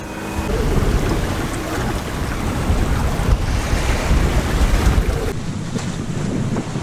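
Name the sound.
sailboat sailing downwind on waves in wind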